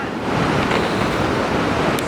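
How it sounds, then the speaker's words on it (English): Large ocean waves surge and crash continuously onto a beach in stormy weather, a loud, dense roar of surf with wind buffeting the microphone throughout and no clear breaks between breakers. "There are some massive waves today."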